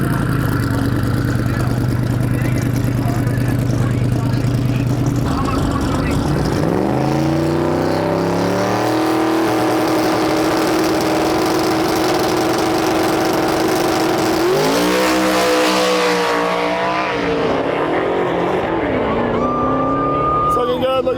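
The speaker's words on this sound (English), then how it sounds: "We got Zach Myers pulling up to the line with the OG Snot Rocket car." The OG Snot Rocket drag race car, driven by Zach Myers at a Sick Week event, idles loudly at the start line, then revs hard in rising and falling sweeps, dropping back to a rough idle between bursts.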